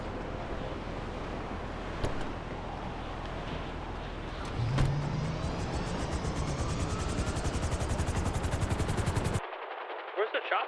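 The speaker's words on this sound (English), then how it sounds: "Where's the chopper? Straight right above us." A helicopter thumps overhead during a yacht heist in a video game, with rapid rhythmic rotor chopping over continuous bursts of machine-gun fire and engine noise, loud and dense, before the sound drops off near the end.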